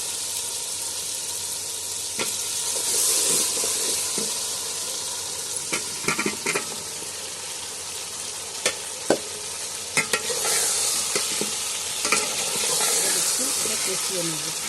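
Fried chicken pieces sizzle in a pot for biryani in a steady, hissing fry, with occasional sharp scrapes and clinks of a spoon stirring at irregular intervals.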